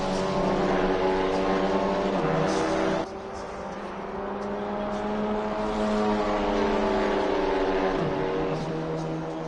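A racing car on its final lap of the ARL Alpine Cup, its engine a close, continuous drone with shifting pitch and a sudden drop around one gear change, with no voices over it.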